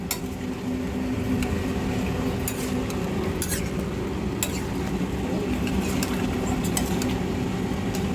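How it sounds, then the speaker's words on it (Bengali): Potatoes are stirred in a cooking pan, with a steady hot sizzle running throughout and scattered sharp clicks and scrapes of the utensil against the pan. "এবার আলু দিয়ে এবার নেড়ে দিচ্ছে, ভালো করে নাড়ছে ও"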